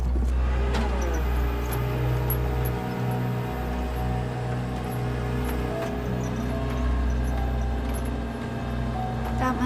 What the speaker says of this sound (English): That must be Cliff Minton's truck they're towing.